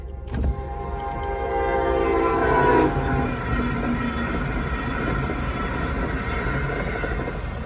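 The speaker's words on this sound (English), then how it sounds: "Amtrak train." An Amtrak train passes a railroad crossing: a sharp horn blast sounds early, followed by the loud, continuous roar and rumble of the passing cars, close by.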